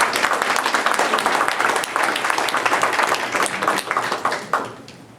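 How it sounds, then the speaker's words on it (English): Audience at a scams and fraud prevention panel event giving a round of applause, dense steady clapping that holds loudly for several seconds, then thins out and tapers off near the end. "How about a round of applause for him?"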